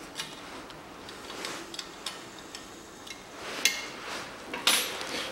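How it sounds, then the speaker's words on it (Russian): A bracket comes off the front strut of a 2006 Hyundai Accent 1.5. Faint scattered metallic ticks and taps are topped by two louder clinks near the end, all quiet, with no speech. "Снимаю скобу."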